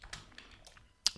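A few quiet, scattered clicks of typing on a computer keyboard, heard close and faint.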